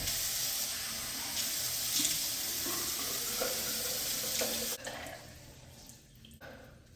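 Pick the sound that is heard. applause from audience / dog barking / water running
water running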